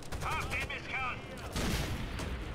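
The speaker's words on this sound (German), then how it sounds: "Der schmeißt schon wieder mit Granaten." Combat noise from Rainbow Six Vegas 2 with grenade explosions: a thudding blast lands midway amid gunfire, alongside a short burst of radio-like chatter and tonal game effects.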